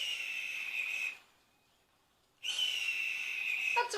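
A recorded bird call, not an eagle's, is played back as a high, steady whistled cry in two long stretches separated by a short silence, close and clear.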